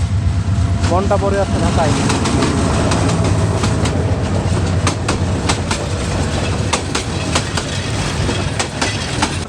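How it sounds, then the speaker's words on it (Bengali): Intercity train heading for Dhaka, passing close by in the countryside: loud continuous rumble with rapid clickety-clack of wheels and a brief horn-like tone early on, while someone talks over it. "ট্রেনটি ঢাকায় যাচ্ছে।"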